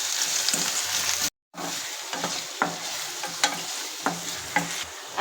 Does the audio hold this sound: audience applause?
no